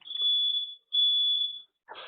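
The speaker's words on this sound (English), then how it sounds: "That was a fire alarm, bear with me." A smoke alarm sounds two long, loud electronic beeps, each close to a second with a short gap between them, followed by a brief burst of broadband noise at the end.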